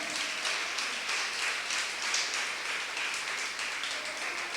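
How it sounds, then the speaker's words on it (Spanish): A church congregation claps in steady sustained applause, moderately distant and even, with no clear voices on top. "Aplausos para Cristo"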